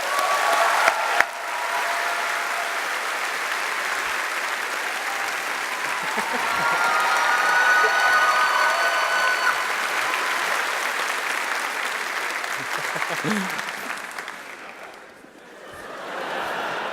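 A PAX West panel crowd at The Witcher 10th Anniversary event gives sustained, dense applause that swells, then thins briefly near the end before picking back up.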